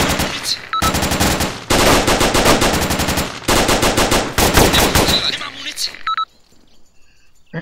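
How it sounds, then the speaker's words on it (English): Bursts of rapid machine-gun fire and gunshots from the video game Arma II in a woodland firefight, loud repeated volleys separated by short gaps, ending in quieter ambience with a few electronic beeps. "There's a lot of firing through the woods."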